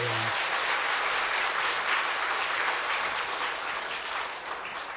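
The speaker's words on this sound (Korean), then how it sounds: "우리 박수로 환영하겠습니다." A church congregation at a Sunday service claps in welcome for visiting missionaries' family, the dense, steady applause filling the room for several seconds before thinning slightly near the end.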